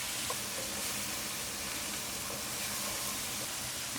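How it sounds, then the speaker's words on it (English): Duck sausage stir-fries over high heat with Szechuan pepper powder, salt and chili flakes, giving a steady, fairly quiet sizzle and hiss that holds evenly from start to finish with no one talking. "stir fry on high heat for 2 minutes"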